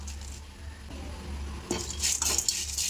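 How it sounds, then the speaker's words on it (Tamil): Dal and curry leaves roasting dry in a pan, stirred with a metal spatula: a quiet start, then a burst of close scraping and clinking against the pan with a faint sizzle beneath. "கொஞ்சம் நேரம் வறுத்துக்கலாம்"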